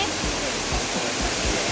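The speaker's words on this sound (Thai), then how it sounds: "เดี๋ยวขอดื่มดำกับ ความสวยงามของน้ำตกก่อนนะ" Salatdai waterfall in Nakhon Nayok, Thailand, swollen with rainy-season water, pours in a loud, steady, broadband roar that stays unbroken and close throughout.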